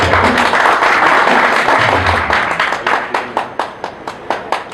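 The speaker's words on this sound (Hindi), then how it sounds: "एक बार जोरदार तालियां" An audience at a Jain youth introduction gathering in Delhi gives loud applause that thins into a few scattered, separate claps as it dies down.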